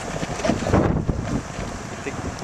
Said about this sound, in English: see the wind starting up again?